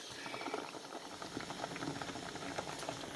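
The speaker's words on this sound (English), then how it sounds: "So boiling pot of water." A pot of water boils on a stove, a close bubbling and crackling with a steady hiss, moderately quiet and continuous throughout.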